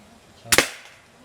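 A single sharp toy-gun pop, a quick snappy crack with a brief tail, standing alone against quiet background.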